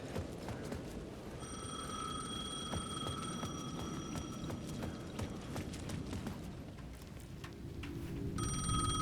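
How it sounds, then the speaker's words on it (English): A payphone rings repeatedly in the video game Alan Wake 2, steady electronic rings sounding at a middle distance over a dense bed of clopping, thumping game ambience. "The payphone at the edge of the plaza was ringing again."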